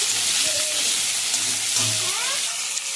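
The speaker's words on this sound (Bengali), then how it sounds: "পেঁয়াজটা ভালো করে ভেজে নেব।" Chopped onion, green chilli and tomato fry in a pan, a loud, continuous close sizzle with faint scraping from stirring throughout.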